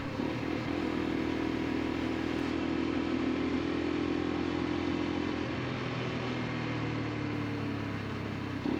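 A Lexmoto LXR 125 SE, a fully faired 125cc motorcycle, is ridden along with its small single engine holding a steady droning tone, pitch shifting slightly as it changes speed, under constant wind rush.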